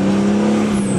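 BMW E36 after cooling system repair, engine running in a short, loud, close burst with a steady low hum.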